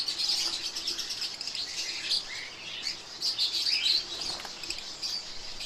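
Caged finches and lovebirds, kept in a breeding setup with albino birds, chirp continuously in a dense chorus of high twittering calls, with occasional wing flutters among them.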